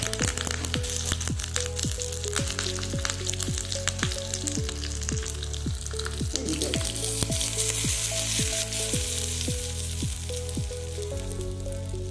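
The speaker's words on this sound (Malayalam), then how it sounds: "ശേഷം രണ്ട് വറ്റൽമുളക് ഇട്ട് കൊടുക്കുക കറിവേപ്പില കൊടുത്തിട്ട് ഫ്ലെയിം ഓഫ് ചെയ്യാം" Dried red chillies and curry leaves crackle and sizzle steadily in hot oil, a close, dense frying hiss with frequent sharp pops throughout, no voices.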